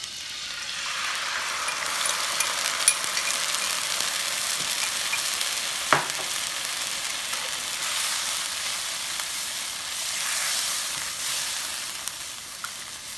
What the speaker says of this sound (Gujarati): હવે આપણે એની અંદર સોસ નાખશું.